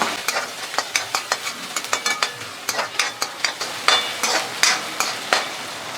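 Chili and onion hit hot oil with cumin, crackling in a steady sizzle punctuated by rapid, rhythmic scraping strokes of stirring, close and fairly loud with no voices.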